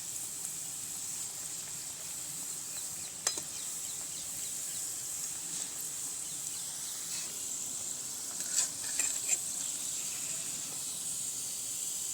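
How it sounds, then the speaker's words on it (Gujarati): Muthiya dumplings frying in hot oil for a Diwali sweet preparation, a soft steady hiss and sizzle throughout with occasional faint pops, fairly quiet and with no talking. "આ તેલ ગરમ થઈ ગયું છે તો તેમાં આપણે આ મુઠિયા તળાવવા રાખી દઈશું"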